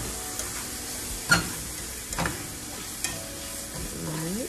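Onions and bacon frying in a pan as fried cabbage is prepared, with a steady close sizzle broken by a few sharp clinks and stirring scrapes, and a faint tonal sweep near the end.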